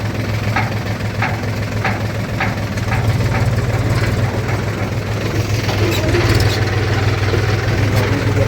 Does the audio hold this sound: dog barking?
no